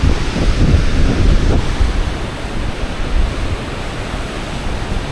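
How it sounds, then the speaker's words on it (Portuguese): Waterfall at Garganta do Diabo in Lages, Serra Catarinense, a loud, steady broadband roar of rushing water with wind buffeting the microphone, no voices. "Aquela cachoeira."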